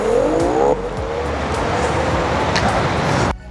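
An Onsra Black Carve 2 electric skateboard accelerates hard from a standstill, a brief rising motor whine giving way to a steady, close rolling roar of wheels and wind rush that cuts off near the end.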